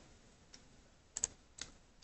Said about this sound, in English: just going to type